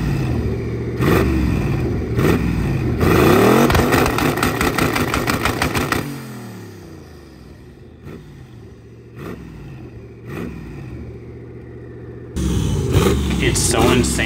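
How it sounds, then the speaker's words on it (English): A drag car with a Lexus engine and an eBay turbo revs hard, then settles and drops away, with sharp exhaust afterburn pops and crackles. Later comes a renewed burst of revving, loud and close. "here's some afterburn for your guys' enjoyment."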